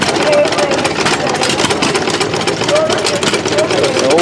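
An antique hit-and-miss gas engine runs at an outdoor gas-up show, chugging steadily as a mid-distance thrum under crowd noise and nearby talk.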